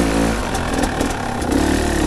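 A Fantic XE 300 motorcycle engine runs with a rough, steady mid-pitched churn, close and continuous, its level swelling slightly near the end, with no voices over it.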